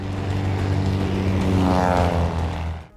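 An airplane's propeller engine runs at a private airport as the plane is readied for flight, a loud, steady droning hum that swells slightly midway and cuts off at the end.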